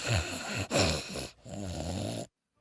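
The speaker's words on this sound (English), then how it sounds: "You know what's really scary? You're snoring." A cartoon character snores in a few drawn-out, growly rasping breaths, loud and close, with short pauses between them and no talking over it.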